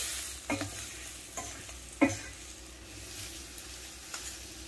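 A spoon scrapes and stirs a spice mix with green chillies in a sizzling pan, a few distinct clinks and scrapes over a soft steady frying hiss.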